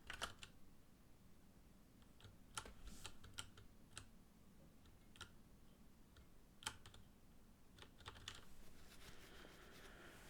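Computer keyboard typing during a C programming session, with irregular bursts of sharp key clicks and a few louder key strikes over a steady low hum, close and alone with no talk.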